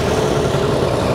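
A big bike motorcycle engine idles steadily up close on a morning ride in Greece, a continuous low rumble with no voices.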